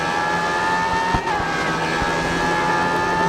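A race car in GRID Autosport holds a steady, piercing high-pitched engine whine, loud and continuous, with a brief dip and a faint thump near the middle.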